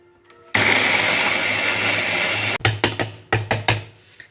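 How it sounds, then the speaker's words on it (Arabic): An electric blender whirs loudly for about two seconds, blending a fish marinade with oil, then stops and gives several short pulsed bursts. "نبتدي بقى نضرب الكلام الجميل ده بس كويس"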